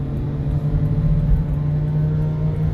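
A Can-Am Ryker three-wheeled motorcycle cruises through Chicago streets alongside a riding group, its engine a steady, close, droning hum with a constant low tone and no pauses.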